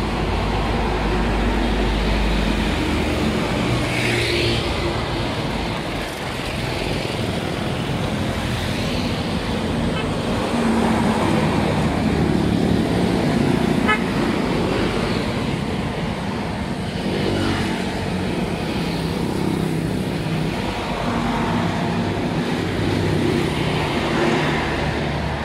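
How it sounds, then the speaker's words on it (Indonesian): Box and cargo trucks pass along a roadway in succession, a continuous wash of engine rumble and tire noise swelling and easing as each vehicle goes by, moderately loud with no speech. "Truk box, truk kargo."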